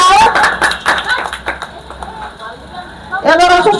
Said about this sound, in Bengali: হাততালি হাততালি দাও।